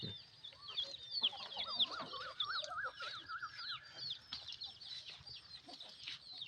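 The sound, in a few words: chickens clucking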